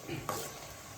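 Ginger garlic paste sizzling in hot oil for chicken pickle, a soft steady hiss with a brief stir of a spoon in the pan, short and close, no talking.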